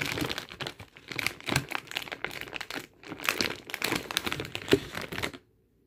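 Plastic packaging of Schneiders Pepperettes honey garlic sausage sticks being handled, giving close, continuous crinkling and crackling bursts that end abruptly in silence.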